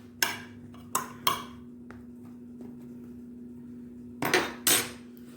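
A metal spoon clatters and scrapes against a roasting tray of lamb leg steaks and potatoes. The clinks come in a few sharp bursts, with a paired knock near the end, over a steady low kitchen hum.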